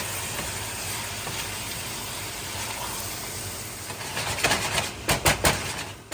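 Water for noodles boils in a pot as a steady, moderately loud bubbling hiss. Near the end a few louder bursts of churning cut through it.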